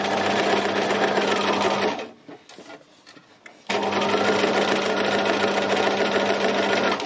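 A sewing machine stitches fabric for a mountain design in fast, loud whirring runs, stopping for a quieter pause of about two seconds with a few faint clicks before the stitching resumes.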